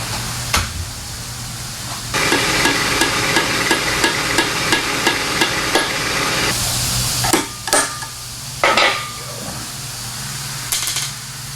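Sharp metallic hammer blows drive a press-fit limit bushing into a distributor on a 1968 Chevrolet Malibu, a quick run of evenly spaced taps followed by a few heavier isolated strikes, close and loud.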